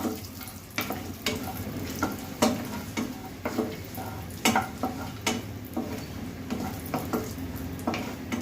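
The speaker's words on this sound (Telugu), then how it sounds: "లైట్గా జీడిపప్పు కూడా వేయించుకోవాలి." Cashews sizzling gently in a pan, punctuated by regular clinks and scrapes of a spoon stirring against the metal.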